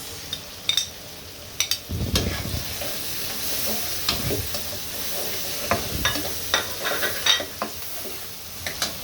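Water lily stems fry with green chilies and a little turmeric in a pan: a soft sizzle beneath sharp, irregular clatters and scrapes of a spoon stirring against the metal.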